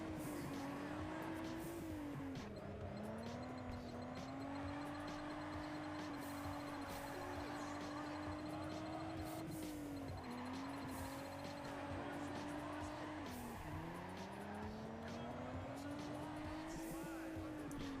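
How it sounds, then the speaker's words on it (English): An XR8 with a V6 engine races in the Juiced 2: Hot Import Nights game, its engine note climbing steadily and dropping at several gear shifts, with tire squeal mixed in throughout. "You can tell by the V6 noises."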